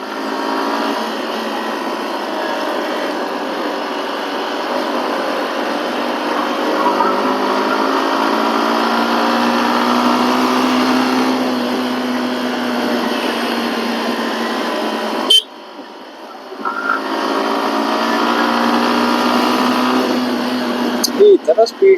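Suzuki Gixxer SF 150 motorcycle engine running steadily while riding, a continuous near drone with slowly shifting pitch, briefly cut off for a moment near the end before resuming.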